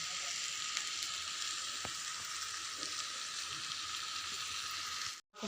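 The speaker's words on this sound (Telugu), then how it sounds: "ఈ విధంగా కలుపుకొని సిమ్లో పెట్టుకొని వేయించుకోండి" Kaju chicken fries in oil in a pan on a low flame, a steady close hiss and sizzle that runs continuously with faint crackles and no voices, then briefly drops out near the end.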